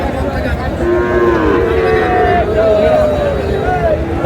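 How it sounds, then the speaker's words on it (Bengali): A Sahiwal bull at a busy cattle market gives long, drawn-out lows that rise and fall over a dense background of crowd noise and market chatter, fairly close and loud. "এখানে বেশ সুন্দর শাহিওয়াল পাকড়া"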